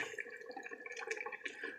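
Liquid pours and splashes steadily into a pan nearby, a soft bubbling trickle at low volume with no speech.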